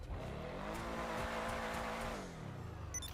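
Engine of the Canis Freecrawler off-road vehicle in GTA Online, a loud continuous revving drone that rises and holds steady before easing off near the end, with no talking over it.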